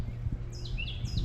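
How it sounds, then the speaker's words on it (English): Prairie warbler singing among oak trees, a quick run of thin high rising notes repeated several times, faint and distant over a low steady hum. "And a prairie warbler."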